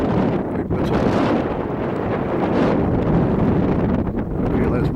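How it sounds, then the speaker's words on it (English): Strong wind gusting across an open Scottish hillside on Lechrea Hill in Glen Almond, a loud continuous roar buffeting the microphone throughout with no letup. "you probably hear the wind"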